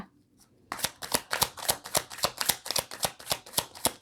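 Tarot cards shuffled by hand for a love reading, a brief faint rustle followed by a crisp, evenly paced series of loud riffling snaps, close and alone with no voice.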